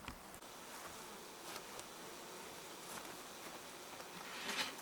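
Honeybees buzz steadily as a hive is opened for inspection, a dense close hum that holds throughout with faint rustling.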